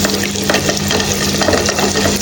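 Onions fry in olive oil and butter in a hot pan, giving a dense, steady sizzle with scattered crackles and stirring sounds over a low constant hum, loud and close throughout, no one speaking.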